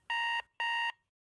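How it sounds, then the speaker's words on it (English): An alarm clock gives two bright, close electronic beeps, each about a third of a second long with a short gap between, then falls silent. "This is the sound of waking up."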